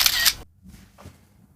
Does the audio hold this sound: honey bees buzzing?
no